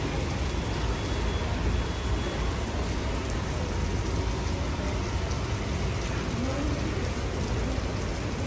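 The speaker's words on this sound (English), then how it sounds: "It's extremely rainy. The weather is terrible." Heavy, steady rain pours outside an airport in terrible weather, a dense continuous wash of drops and spatter filling the whole stretch at an even, fairly loud level with no voices.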